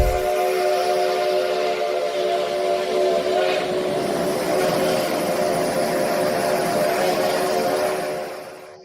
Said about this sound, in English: Not smoke, just a steam locomotive releasing built-up water and sediment.